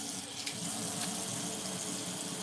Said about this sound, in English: Let me put some water on it.